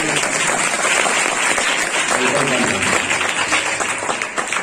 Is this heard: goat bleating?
no